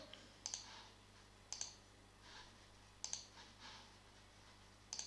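Typing on a computer keyboard into a Notepad file, heard as short sharp clusters of key clicks at roughly regular intervals over a quiet background.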